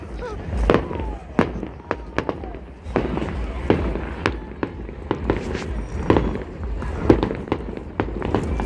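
Fourth of July fireworks over Tempe Town Lake in Arizona go off in a rapid series of booming bursts, loud and repeated. A festive crowd murmurs underneath.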